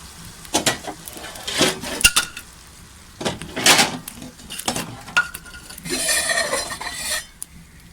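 Boiled rice is stirred and tossed in a pan with a metal utensil for restaurant-style chicken fried rice, giving irregular scraping and clinking strikes close up, with a denser rattling stretch near the end.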